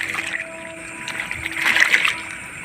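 A person wades through lake water at night, making soft splashes and sloshing ripples close by, a little louder near the end of the short stretch.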